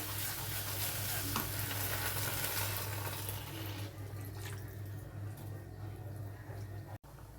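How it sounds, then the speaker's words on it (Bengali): Water poured onto a fried spice paste in a hot pan for paneer kofta curry, hissing and sizzling loudly while being stirred, the sizzle easing in the second half. "মশলাটা কষা হয়ে গেছে, দেখো তেল ছেড়ে গেছে মশলাটা থেকে। এবার জল দিয়ে দেব।"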